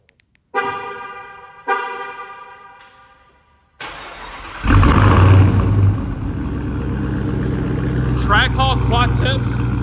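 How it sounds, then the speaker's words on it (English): An 1100 hp AWD Chrysler with Trackhawk quad exhaust tips cold starts nearby. Two chime-like tones come first, then the engine cranks and catches into a loud roar that settles to a high idle, with a few short squeaks over it. "now I'm gonna give you guys a cold start"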